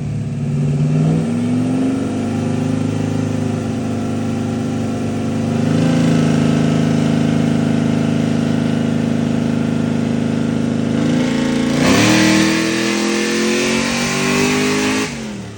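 Car engine strapped to a dyno holds a loud steady drone, climbs in pitch, then surges sharply in a hard rev near the end, close and constant.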